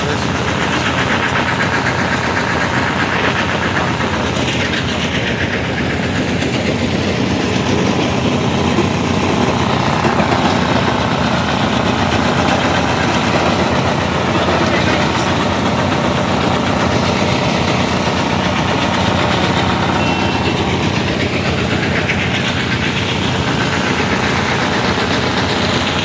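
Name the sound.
large stone crushing machine running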